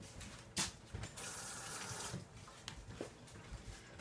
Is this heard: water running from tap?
yes